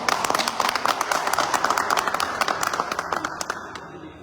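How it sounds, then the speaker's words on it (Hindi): Hands clap in a brisk, uneven patter of applause at a car achievement celebration, moderately close and fairly light, thinning out toward the end. "जोरदार तालियां लें कृष्णा जी"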